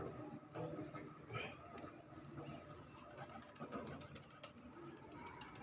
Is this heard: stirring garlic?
no